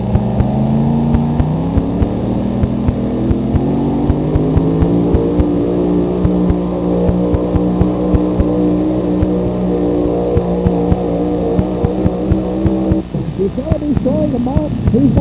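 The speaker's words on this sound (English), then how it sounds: "Yep, that's Andy's tractor." A loud, steady engine drones throughout, holding a low rumbling pitch that climbs slightly early on, with faint clicks over it. It fits an antique tractor engine running at a pulling event, and the tone shifts briefly near the end.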